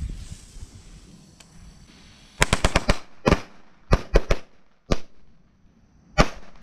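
Firecrackers go off outdoors on New Year's in rapid popping bursts, a quick string of sharp bangs followed by a few scattered single cracks.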